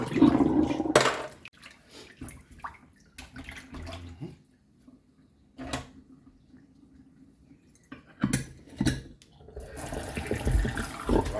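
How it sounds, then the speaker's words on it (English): Cucumber being washed under a running kitchen tap while preparing a quick Jamaican breakfast: water gushes in bursts, splashing loudly at the start, trickling between, then running steadily again near the end. "I'm gonna wash them again."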